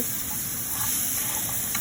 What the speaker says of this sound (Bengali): কাঁকড়া এদিকে ভাজা হচ্ছে